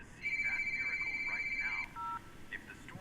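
An old-fashioned telephone in a video game is dialed, giving a steady run of overlapping dial tones that carries on for about a second and a half before a brief change in tone.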